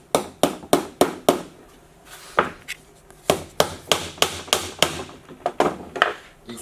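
A traditional nail is hammered through a three-hole steel corner bracket with rapid sharp strikes in uneven bursts, a short pause, then another quick run of blows, close and loud.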